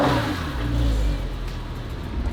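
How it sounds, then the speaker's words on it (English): A Porsche 997 engine with a lightened flywheel runs with the clutch pedal pressed, giving a close, steady mid-pitched rumble that swells slightly and then settles, with no talking. "you can hear it when you step on the clutch pedal, that the sound disappears and then it comes back"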